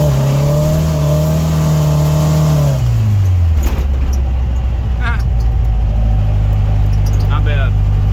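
VW Volksrod on Weber IDF carburetors revving loud and close, the engine note climbing then dropping as it shifts, followed by a raw roar as the car accelerates away and spins its tires, with a voice over it.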